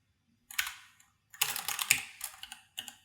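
Bursts of typing on a computer keyboard while writing Go code, clusters of close, crisp key clicks separated by short pauses.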